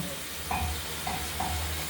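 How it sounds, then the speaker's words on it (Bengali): Pieces of katla fish frying in a pan, a steady soft sizzle running throughout with a few brief louder crackles, close by and with no talking. "সব মাছগুলো ভাজা হচ্ছে দেখতে থাকুন"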